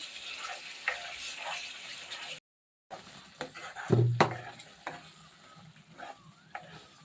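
A ladle stirs sugar into a cooking capsicum halwa until it dissolves, producing repeated scraping strokes and a few louder knocks against the pan over a soft sizzle, with a brief silent gap.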